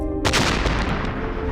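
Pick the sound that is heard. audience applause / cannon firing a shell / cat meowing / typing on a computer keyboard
cannon firing a shell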